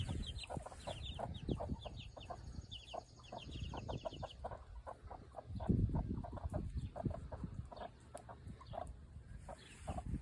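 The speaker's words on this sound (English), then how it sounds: "she let the chickens set on some eggs, so she's got baby chicks." Hens cluck and chatter continuously nearby, a busy mix of short clucks and squawks with no talking.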